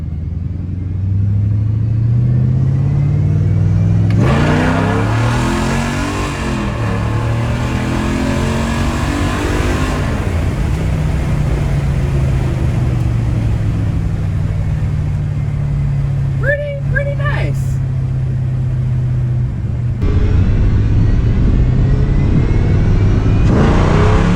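A Mercedes CLK55 on drag tires roars and revs hard from a 20 mph roll, rising in pitch through several gear pulls, loud and close, with a brief pause before surging again.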